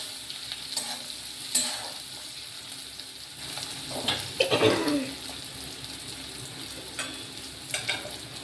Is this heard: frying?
yes